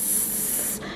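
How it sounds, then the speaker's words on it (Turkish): A pump-action oil spray bottle mists cooking oil into a pan with one steady, loud hiss lasting most of a second before cutting off. "Bu bir sprey şişesi ama bu da pompası. Hava kalmadan direkt çıkmasını sağlıyor."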